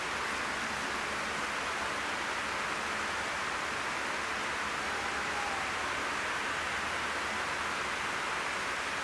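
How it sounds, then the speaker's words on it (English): Steady rain falling outdoors, a dense, even hiss that continues without a break and without any voices. "I'm sorry it's raining."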